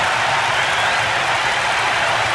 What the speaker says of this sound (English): The goal richly applauded by all corners of the stadium.